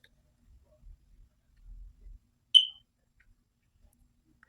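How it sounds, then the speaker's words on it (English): A single short, high-pitched electronic chirp from a smoke alarm sounds once in an otherwise quiet room, with faint low thumps before it. "The low-key psychological warfare that is my smoke alarm is disrespectful"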